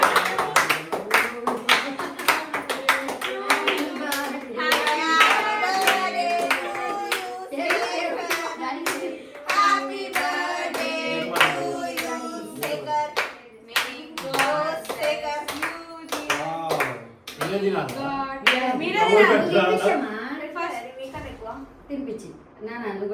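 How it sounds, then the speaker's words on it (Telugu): At a family's midnight celebration at home, several people clap along in a fast, steady rhythm for over twenty seconds while adults and children talk and sing over the clapping. "చప్పట్లు కొట్టండి."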